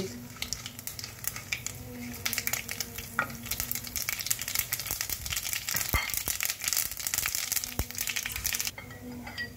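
Raw banana fries with a mustard seed tempering. Crackling sizzle runs under busy stirring, with scraping and crinkly clicks throughout and faint speech in the background.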